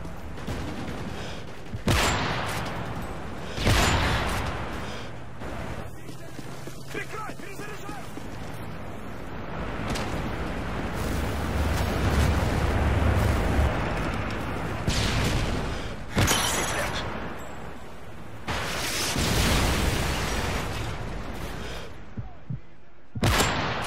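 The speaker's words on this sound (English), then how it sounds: "Enemy strafe run incoming." Explosions and gunfire from an enemy strafe run airstrike in Call of Duty Modern Warfare 3 multiplayer, with several sharp booming blasts punctuating a constant roar of battle, while voices speak over it.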